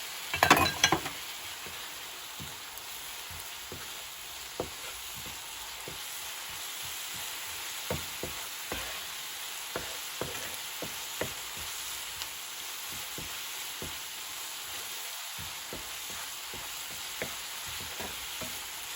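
Ingredients for fried rice frying in sesame oil in a pan, giving a steady soft sizzle throughout, with a spatula scraping and clinking in irregular strokes close by.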